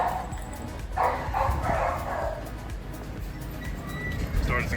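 Dogs give a few short barks and yips amid a noisy busy outdoor background at an amusement park, with people chatting nearby.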